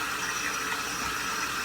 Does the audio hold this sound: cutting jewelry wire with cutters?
no